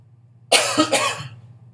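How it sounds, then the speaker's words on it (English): Two or three harsh, close coughs burst out in quick succession, then trail off into quiet room noise. "I just had another bit of a coughing fit."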